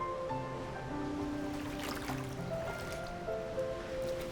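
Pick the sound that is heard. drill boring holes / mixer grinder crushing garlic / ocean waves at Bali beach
ocean waves at Bali beach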